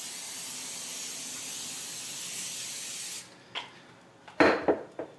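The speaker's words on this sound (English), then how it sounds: "Just spray the pan down." Cooking spray hisses onto a pan set up for crispy Cajun chicken, a steady spray for about three seconds followed by a few short bursts and light clanks of the pan, close and clear with no talking.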